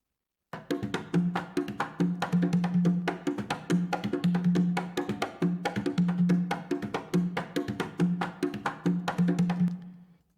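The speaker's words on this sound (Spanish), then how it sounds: "Tenemos conga." Conga drum strokes play a steady, driving rhythm with resonant low tones and sharp slaps, loud and close, alone without talk.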